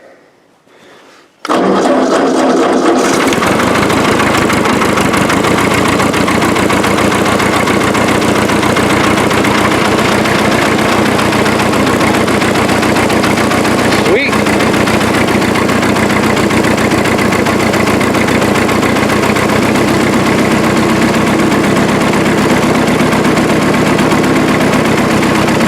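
A Ford 8N tractor engine cranks and fires after a brief quiet start, then settles into a loud, steady, close idle with a constant chugging rumble that runs unbroken to the end.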